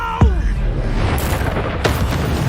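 The Confringo blasting spell goes off in Hogwarts Legacy. Two loud, booming blasts with crackling bursts sound amid busy game noise.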